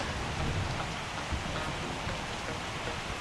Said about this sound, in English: Today the rain is extreme, there is thunderstorms.